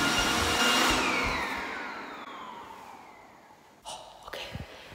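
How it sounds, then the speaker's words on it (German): A robot vacuum cleaner drives around a room, giving a steady whirring hum with a falling whine that fades slightly, then a few knocks and bumps near the end. "jetzt fährt ja auch noch dieser scheiß Staubsauger rum"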